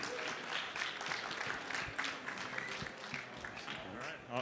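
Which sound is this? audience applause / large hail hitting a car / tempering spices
audience applause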